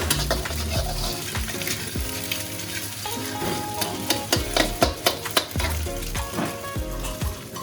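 Garlic and ginger sizzling in a hot pan for a string hopper kottu, a loud continuous frying hiss with clattering stirring strokes and sharp knocks against the pan.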